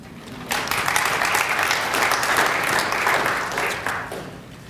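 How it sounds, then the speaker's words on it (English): Audience applause for science at the UJIIS launch, a dense wash of clapping that starts after a brief pause and holds steady for several seconds before easing slightly. "I think you can give science a round of applause."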